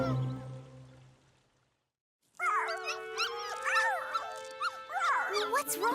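Cartoon dogs whimpering and whining at a dog park in Strawberry Shortcake's Berry Bitty Adventures, a cluster of high wavering cries after a low tone and brief silence, with music underneath.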